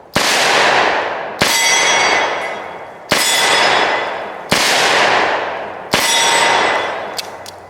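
Five loud, sharp revolver shots from a Taurus 692 Tracker firing cowboy loads in double action, each about a second and a half apart with a long reverberant decay, followed by a faint click.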